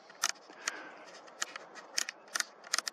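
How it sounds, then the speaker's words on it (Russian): Exposure dial wheel turned on a camera during night photography of the Moon: a series of sharp, crisp clicks in irregular bursts, close and fairly loud over a quiet background, with no speech. "просто колесико вращаешь на фотоаппарате."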